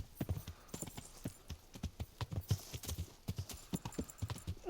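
Horse hooves clip-clop in a steady trotting rhythm in Kingdom Come: Deliverance, close but fairly quiet, with no other sounds over them.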